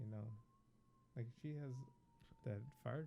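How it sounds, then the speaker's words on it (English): A faint siren wails outside in the distance, a thin steady tone holding under people talking close by throughout. "Excuse that siren. That's outside somewhere."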